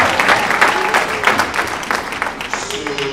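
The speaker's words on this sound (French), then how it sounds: "Put your hands together for the Lord." A church congregation claps and cheers for the Lord in a dense, continuous burst of applause that fills the space, with crowd voices mixed in throughout.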